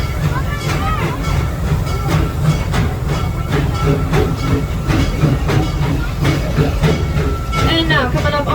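A park train at Busch Gardens in Florida rumbles along with a constant loud roar and a faint clickety-clack of wheels, while a guide narrates over it.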